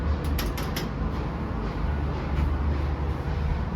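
Lift machinery running during an upward ride in a Queens Wharf elevator, a steady low mechanical rumble with faint creaks, close and continuous throughout.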